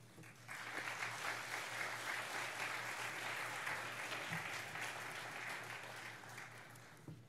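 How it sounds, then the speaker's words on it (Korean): Church congregation applauding to welcome a missionary to the front, a sustained, even roar of clapping that holds steady throughout over a faint low hum. "선교사님 나오실 때 큰 박수로 환영해 주시기 바랍니다."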